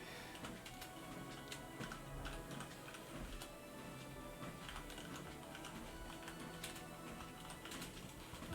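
Rapid, faint clicking of keys on a computer keyboard, irregular taps scattered across the whole stretch over a steady background hiss, with no voices.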